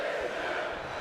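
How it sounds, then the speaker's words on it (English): A wrestling arena crowd in the WWE 2K19 video game roars continuously, a dense loud cheering wash with no breaks over the brief moment. "you can hear this crowd tonight on the side of Christian as this matchup gets underway"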